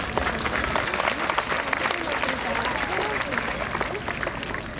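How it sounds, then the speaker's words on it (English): Dense applause from an audience at a mounted police festival of Welsh ponies and cobs, steady clapping for a horse and rider lasting several seconds with crowd murmur mixed in. "give him a clap"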